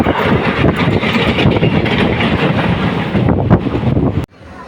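Chennai Central Alappuzha Express rushing past on a crossing track, a loud sustained roar with rumble and wind buffeting that cuts off abruptly near the end.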